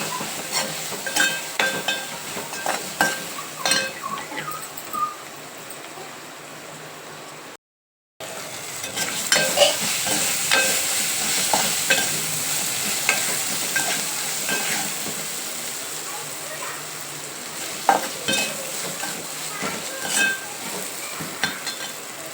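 Four or five garlic cloves fry in oil in a pan and are stirred, producing a continuous close sizzling hiss with scattered scraping and stirring clicks, briefly cutting out once.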